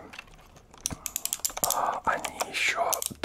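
Fingers tap and click sharply on the keys of an early Microsoft mechanical computer keyboard, a close, irregular run of crisp clicks under soft whispered speech.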